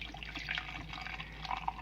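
Hot ghee is poured from a pot through a strainer, a soft, steady trickle and drip of liquid heard up close with faint spattering and no talk.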